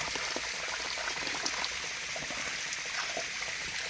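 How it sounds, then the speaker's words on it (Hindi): Tap water runs steadily in a Nepal kitchen setting, a continuous broadband rush of flowing liquid with no breaks, fairly loud and close. "मैं अभी ये नल बंद करने वाली थी।"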